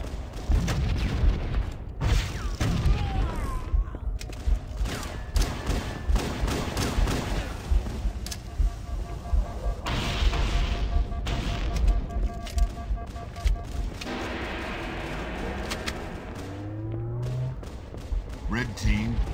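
Gunfire and heavy rocket launcher explosions in a Halo CE multiplayer match, with booming blasts and bursts of shots scattered across the clip, mixed with game sounds and people talking throughout.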